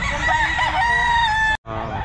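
Chickens and roosters at the Grotto pet market: a loud rooster crow close by over a clucking flock, cut by a short gap, then more fowl noise.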